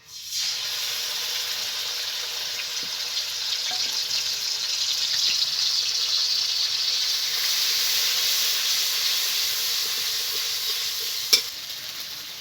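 A ground paste of mustard, cumin and green chili hits hot oil and sizzles loudly, then keeps frying in a steady close hiss with a light clink near the end.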